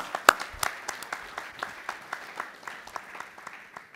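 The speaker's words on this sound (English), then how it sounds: "Let us give him a round of applause." Scattered audience applause for a speaker at a formal gathering, with distinct individual claps popping out in an irregular rhythm, one sharp nearby clap early on, overall moderately quiet and thin.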